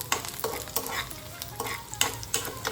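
Green chillies fry in a hot pan with a close, crackling sizzle, broken by repeated spoon stirs and scrapes in an uneven rhythm. No one speaks.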